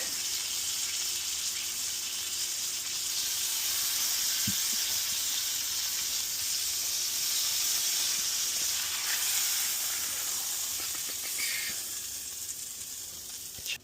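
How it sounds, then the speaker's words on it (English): Steak fat cap searing in a hot pan, a steady loud sizzle and hiss that runs unbroken for the whole stretch with no voices over it. "we're going to flip it up on the side and hit this. Oh, hit this fat here for, I don't know, 30 seconds."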